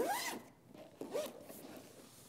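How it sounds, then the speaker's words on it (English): A supply bag at an election judge's table is zipped shut in two quick pulls, close and clear, with a short pause between strokes and no talking. "You can put your barrel key in the supply bag and go ahead and zip it up"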